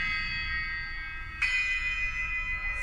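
The lid of a canari clay pot rings like a gong with a sustained metallic-sounding tone that slowly decays, then is struck again midway for a brighter, louder ring, with a faint third touch at the end.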